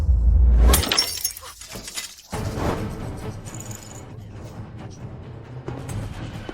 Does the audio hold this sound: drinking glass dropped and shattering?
yes